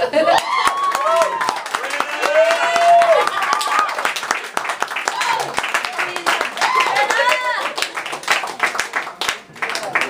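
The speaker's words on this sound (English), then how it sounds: "Clap it up one more time for Britta B." An audience claps for spoken word poet Britta B at a live poetry show, a lively burst of crowded hand claps that rises and then thins, with voices talking over it.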